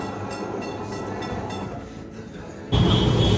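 Kolkata tram rolling along its rails, heard from on board as a steady, loud rumble with faint rhythmic clicks, then a sudden jump to a louder, brighter grinding roar near the end.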